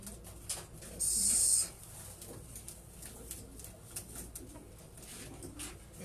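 A long-distance racing pigeon coos softly in a loft, low and close, with a brief bright tone and light background noise around it.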